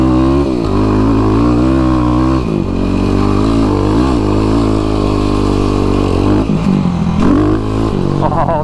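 A 2003 Yamaha YZ450 dirt bike engine revs loudly and up close on sand. Its throaty, rising and falling tone runs without a break for about nine seconds, with some mechanical clatter.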